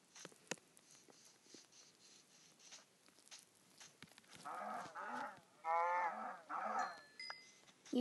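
Blocky Minecraft cows give several low, drawn-out moos in close succession, fairly quiet, after scattered soft footsteps and clicks.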